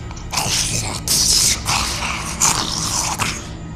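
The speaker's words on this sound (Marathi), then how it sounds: "काहीतरी चावल्याचा आवाज आला." A horror-story sound effect of something chewing: wet, crunching bites in several bursts, close and fairly loud, with a faint low growl beneath.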